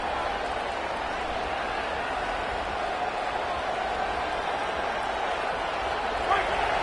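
A college football stadium crowd roars steadily for its defense during a USC versus Penn State game, a broad, constant wall of cheering under faint commentary.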